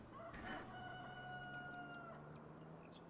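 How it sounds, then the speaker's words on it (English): Chickens cluck and a rooster crows in a farming video game, a faint, steady farmyard ambience with a sustained crow near the start and small clucks and chirps scattered afterward. "Apparently there's chickens around here somewhere."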